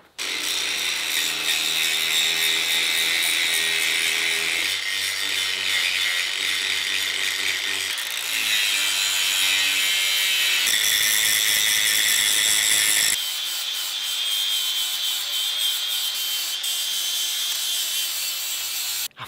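A power grinder works an axe head in a steady, loud, continuous whine with abrasive rasping, its pitch shifting a few times as pressure changes, close by and with no talking.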